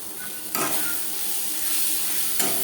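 Spices with salt and turmeric stirred in a hot pan for a tomato fish curry, a loud close sizzle with scraping strokes near the start and end.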